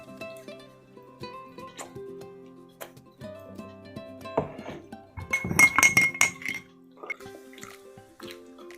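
Dishes, pots and cutlery clink and clatter while being washed at a sink, with scattered close knocks and dripping water building into a busy burst of clanking before settling into lighter occasional taps.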